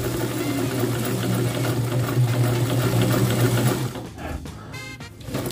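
A sewing machine stitches a hem, its steady close motor hum and rapid needle rhythm running continuously before slowing and stopping, then a few brief mechanical clicks.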